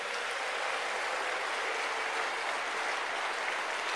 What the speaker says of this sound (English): Let us give Jesus Christ a beautiful hand of applause again.